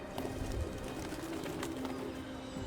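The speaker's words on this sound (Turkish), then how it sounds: "Güvercin yeme gelir garibim." Pigeons coo softly, with repeated low murmuring calls over a steady ambient hum from a pigeon feeding spot, and no talk heard.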